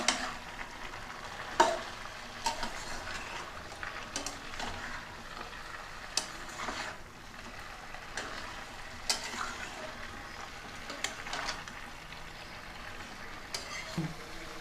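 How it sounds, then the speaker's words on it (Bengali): Chicken pieces and carrots for a spicy stew frying in a pot, a quiet sizzle broken by scattered sharp scrapes and knocks as the meat is stirred, with no talk. "মাংসটা দিয়ে একটু নাড়াচাড়া করছি।"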